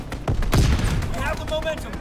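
Strafing-run gunfire in Call of Duty WW2 multiplayer on the Shipment map, a loud burst of overlapping shots and booms with game voice lines over the top.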